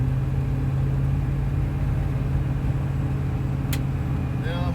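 A 1957 Chevrolet Bel Air two-door hardtop cruising at half throttle, its engine giving a steady low rumble and hum from inside the car, smooth and unbroken, with a brief faint squeak near the end.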